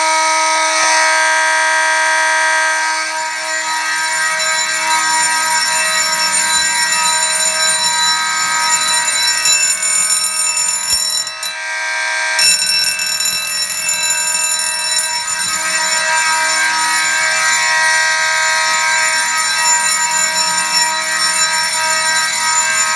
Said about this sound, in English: let's pull the stopper pull station, and now the system is on continuous, and you'll get that it will go off right away.